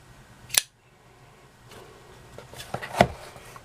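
A Buck folding knife being pried open, giving a sharp metallic click near the start, then quieter fumbling and a second distinct snap a few seconds later, close and otherwise quiet.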